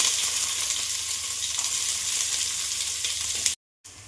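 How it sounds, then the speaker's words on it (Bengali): Onions hiss and sizzle as they fry in hot oil after whole spices, a steady, close frying sound that cuts out abruptly for a moment near the end. "পেঁয়াজ দিয়ে দিচ্ছি।"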